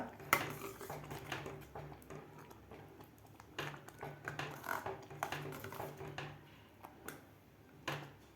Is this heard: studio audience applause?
no